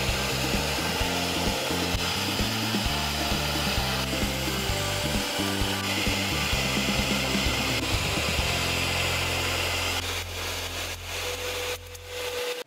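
A Bissell SpotClean wet vacuum cleaner works over a fabric car seat, its motor droning loudly and steadily with rough scrubbing and suction noise, then easing to a thinner whine near the end.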